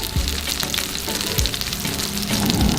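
Mackerel frying Kerala style in a pan, a steady dense sizzle of hot oil running throughout with a few low stirring knocks, close and fairly loud, no voices.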